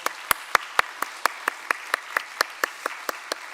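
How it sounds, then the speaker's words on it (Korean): Scattered hand claps in a church service congregation welcoming new members, a sparse run of about fifteen distinct claps at a steady pace, fairly close and without talk. "우리 박수로 환영할까요?"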